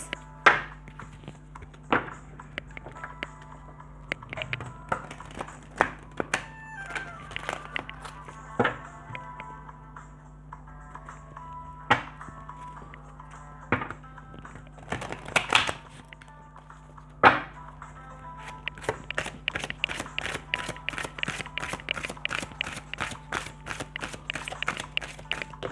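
Angel Oracle cards being shuffled and drawn, irregular soft taps, slaps and riffles up close with a low steady hum, ending in a rapid flurry of card flicks.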